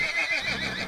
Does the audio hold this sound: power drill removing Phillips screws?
no